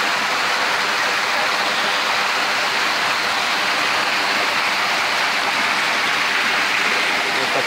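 Stream water at El Tuncaj in Granados, Baja Verapaz, rushes loudly and continuously downhill, a dense close-up wash of splashing with no pauses and no voices.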